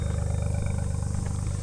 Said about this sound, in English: I'm going to turn the engine off so that it stops screaming at me.